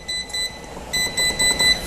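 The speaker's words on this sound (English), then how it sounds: "It beeps again, and now you can adjust it." Several short, bright electronic beeps from an infrared heater's control panel, in quick bursts with brief gaps, close and clear.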